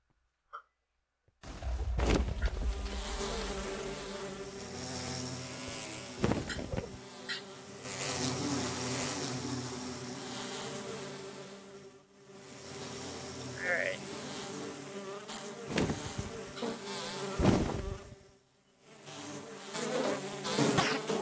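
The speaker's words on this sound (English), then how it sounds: "if the wither desires bees, bees it shall have." Steady buzzing of bees in Minecraft drones continuously, with a few brief thumps and bursts over the top, fairly close and loud.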